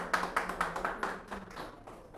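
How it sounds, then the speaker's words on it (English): Applause from an audience after a surgical presentation on phacoemulsification with extended depth of focus lenses, a scattered run of claps and taps, moderately close and thinning toward the end, with no voices. "Only applause, no questions, sir."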